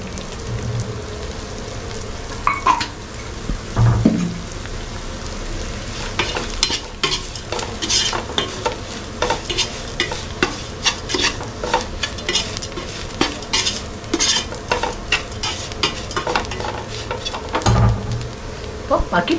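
Tomatoes sautéing in oil in a pan for a Malabar fish head curry made with a large trevally head, a steady sizzle broken by repeated scraping stirs and clinks, close and fairly loud with no talk.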